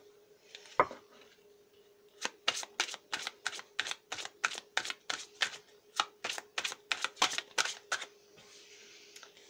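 Tarot cards shuffled close up: a rapid, even run of about eighteen crisp card slaps after an opening knock, with no voices over them.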